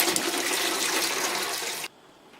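Water rushing from a tap into a canning pot over jars of blackberry jam, a loud, steady gushing pour close by that cuts off abruptly near the end.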